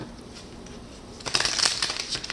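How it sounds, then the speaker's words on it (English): Romance Angel Oracle cards are shuffled quickly by hand, a soft quiet start giving way to a burst of crisp riffling and flicking in the second half. "So I'll do a quick shuffle in between them and just pull from the top."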